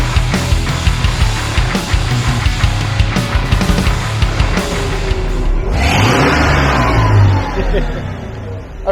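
A hot-running inline six-cylinder engine in an OBS-era Ford truck revs loudly and close by, its mid-pitched roar rising and falling, with a sharper surge near the end and a voice briefly heard over it.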